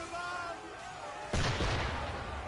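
Ship cannon fire in Assassin's Creed III erupts as a sudden, loud, broad boom that rolls on and rumbles through the rest of the moment, over a steady background of wind and sea ambience.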